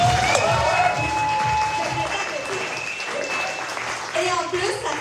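A theatre audience at a French comedy stage show breaks into lively applause mixed with some cheering and crowd voices, fairly loud and close, over a few seconds.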